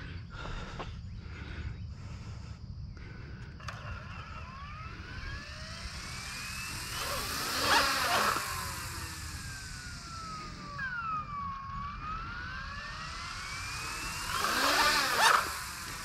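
A beginner's Sikorsky UH-60 Black Hawk RC helicopter with a 6-axis gyro spins up, its small electric motor whining and rising and falling in pitch in repeated sweeps, close and fairly loud.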